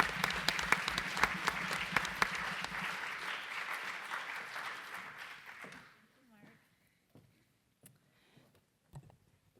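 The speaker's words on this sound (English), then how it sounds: "please give her a large round of applause" An audience at an evening history forum applauds to welcome a moderator onto the stage, with dense clapping for about six seconds that thins to a few scattered claps and quiet.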